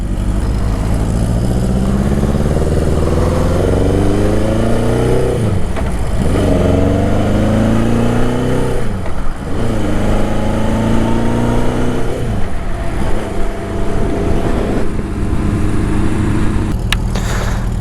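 A Honda CB750 cafe racer is ridden along Ridge Road toward Grimsby, its engine loud and close, rising in pitch through each gear and dipping at the shifts, repeated several times under steady wind rush.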